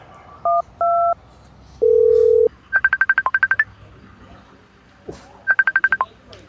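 A phone dials out with a couple of short beeps, a longer steady tone, then rapid bursts of ringback pulses repeated twice, clear and close with faint speech underneath.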